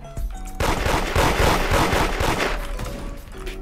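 Rapid revolver gunfire in the Roblox game Da Hood, a loud dense burst of shots lasting several seconds with short pauses at the start and end, no talking.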